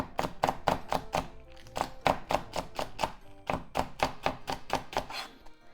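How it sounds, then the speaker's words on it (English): A knife slices through pork and tofu on a cutting board for mapo tofu, a rapid, steady run of sharp close-up chopping thuds in several bursts, with no talking. "Make some slits. And slice."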